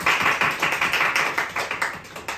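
A small audience gives a round of even clapping, each clap crisp and close, at a rapid steady rhythm with no voices.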